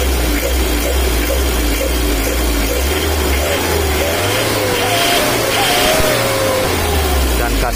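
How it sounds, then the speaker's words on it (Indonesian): An engine with a freshly adjusted injection pump revs hard, its loud, rising and falling roar filling the clip, with someone talking over it. "Kayak bunyi klep, tapi bukan, bunyinya berasal dari injection pump."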